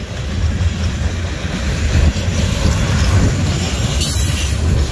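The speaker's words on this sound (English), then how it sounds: "steel slabs. High Wide train." A high-and-wide freight train hauling steel slabs rolls past near Northwood, with steady loud rumbling, clickety-clack of wheels on rails and faint wheel squeal throughout.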